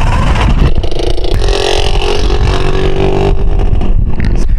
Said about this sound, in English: now that the motorcycles with sidecar traffic has abated